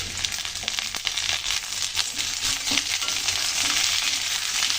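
Green chillies hit papaya pieces already frying in a pan, giving a steady, close crackling sizzle that grows slightly denser as it goes on, with no voices.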